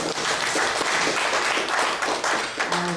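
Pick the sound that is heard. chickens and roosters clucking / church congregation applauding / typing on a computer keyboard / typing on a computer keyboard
church congregation applauding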